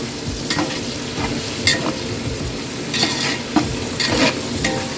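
Sliced onions fry in a pan with a constant sizzle, while a utensil scrapes and clinks against the metal in irregular stirring strokes, up close with no one talking.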